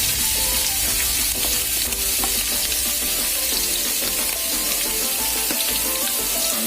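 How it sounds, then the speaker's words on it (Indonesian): Garlic and shallots fry in hot oil for a simple fried rice, a steady dense sizzle running throughout with light stirring clatter mixed in, close and loud, no voices. "selanjutnya kita masukkan bawang putih, kemudian bawang merah,"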